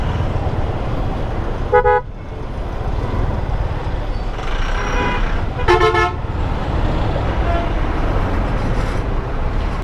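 Road traffic jam with vehicles still creeping along, a continuous low rumble of engines under two distinct car horn toots, the second longer and louder, over steady roadway noise.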